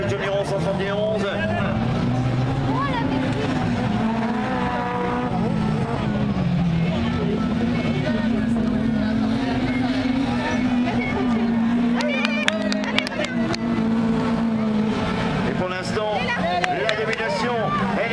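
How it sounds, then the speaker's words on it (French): Autocross race cars compete at Plumelec, engines roaring continuously at mid distance while a French commentator talks over the noise throughout. "Yann Géano qui est en quatrième, cinquième position pour la voiture numéro 3"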